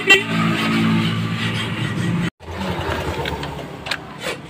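A Suzuki AX4 motorcycle engine idles just after starting, giving a steady, near buzzing hum for about two seconds. It cuts out briefly, then runs again more unevenly, with no talking.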